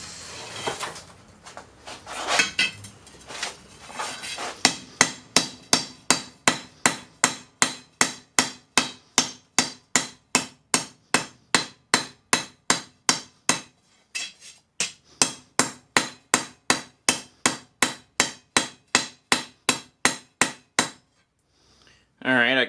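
A hammer flattens a hand-forged knife blade with a long run of loud, evenly spaced metallic blows, close by. The blows come at a steady pace, pause briefly about midway, then resume in the same rhythm.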